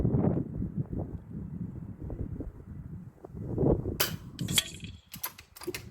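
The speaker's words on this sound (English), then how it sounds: "It is so windy today." Gusty wind buffets the microphone in a steady low rumble, broken near the end by a few sharp cracks and bangs.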